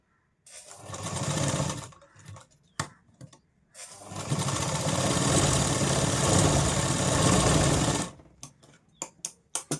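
Sewing machine running a line of stitching on a katori blouse piece: a short burst, then a long steady whir up close, followed by scattered clicks and taps as the machine stops.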